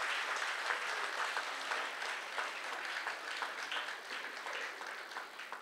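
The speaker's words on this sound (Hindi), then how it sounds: "एक बार जोरदार तालियों से जरा मुझे बताइए कि आप सब रेडी हैं" An audience at an Indian folk music evening applauds in a sustained, quiet wash of clapping that stays fairly even before slowly tapering, heard from a distance.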